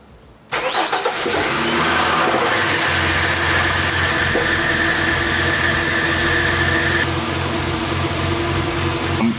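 A Ford AU ute engine starts abruptly, then idles during a coolant flush, holding a steady, loud mechanical rumble with a constant whine and no talk.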